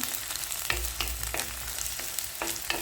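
Onion, ginger, garlic and green chilli fry in a pan for a fish mulak curry, giving a soft, steady sizzle broken by several sharp scraping stirs at a regular pace, close and alone with no talk.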